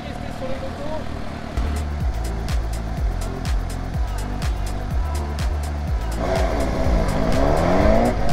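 Motorcycles braking hard on a training course as ABS kicks in, a rapid pulsing chatter of rear brakes over idling and revving engines, ending in a rising squeal, with talk underneath.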